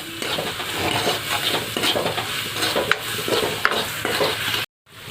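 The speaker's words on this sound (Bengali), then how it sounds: "লবণটা দিয়ে এবারে সব কটা জিনিসের সঙ্গে ভালো করে মিক্স করে নিতে হবে" Beef in a pot being stirred with salt and spices, a continuous scraping and sizzling mix with occasional utensil clinks against the metal, close and steady before a sudden brief cutoff.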